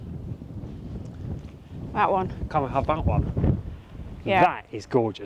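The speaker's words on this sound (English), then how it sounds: "Sorry about the wind, it's really picked up" Outdoor wind buffets the microphone as a low, rumbling roar that runs through the whole clip, with people talking over it.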